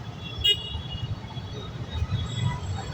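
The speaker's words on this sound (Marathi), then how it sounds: "खूपच जास्त ट्रॅफिक लागले." Heavy road traffic rumbles steadily through a busy street in Morwadi, with one short, loud horn toot near the start and engine noise filling the rest.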